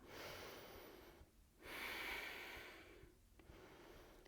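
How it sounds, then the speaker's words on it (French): Slow yoga breathing during a pranayama flow: two long, soft breath sounds, an inhale-like swell then a quieter exhale, close and steady with a brief pause between, no talking. "Et prenez quelques respirations."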